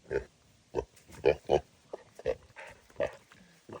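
Pigs on a farm grunt repeatedly, short snorting oinks coming close and clear in an irregular rhythm, with quieter shuffling in between.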